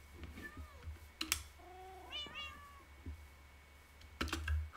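Cats meowing inside a Minecraft server build, with several short drawn-out cries from one or two cats near the listener, separated by soft clicks and keyboard taps.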